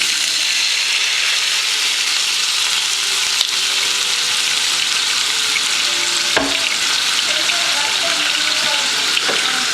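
A steady, loud sizzle as red cooking wine hits a hot pan of chicken and mushrooms, a continuous hiss with a few scrapes and clinks of a utensil stirring, no voices.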